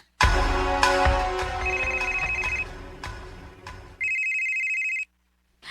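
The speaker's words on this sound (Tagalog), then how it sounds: "Ay, hala, may bagting ang akong cellphone." A cellphone rings with a looping electronic ringtone melody, loud and steady for several seconds, then breaks off before a short higher-pitched tone burst and silence.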